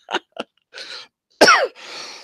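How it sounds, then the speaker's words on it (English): Close-up coughing from one person into a microphone, two quick short coughs, a pause, then a harsher throaty cough and a breathy exhale, loud and dry with no talking. "If I start coughing in your ear, guys, I apologize."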